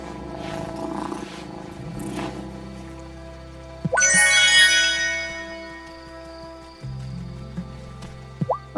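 In the video game Wylde Flowers, a cat gives a soft, steady purr alongside ambient game tones and a few chiming notes, with no talking.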